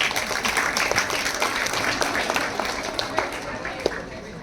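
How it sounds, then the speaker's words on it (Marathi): A school audience at a poet's award ceremony applauding the children, a dense crowd clapping that runs steadily with scattered sharper claps, with voices mixed in. "सगळ्यांनी एकदा त्या मुलांसाठी टाळ्या वाजवा"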